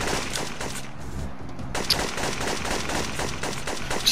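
Rapid bursts of gunfire from the video game Syphon Filter 2, with dense repeated shots continuing steadily at close range over a busy game soundscape, loud throughout.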